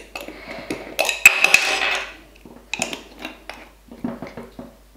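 A lid is screwed onto a glass jar of citrus peels in vinegar, giving several close, sharp clinks and scraping twists in uneven bursts, then a few lighter taps, with no talk.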